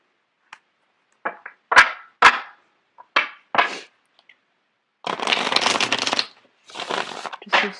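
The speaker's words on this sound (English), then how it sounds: "I'm going to get the cards shuffled out." Tarot cards shuffled by hand in a quiet room: several short riffling bursts, then two longer, louder continuous shuffles near the microphone, with no talking.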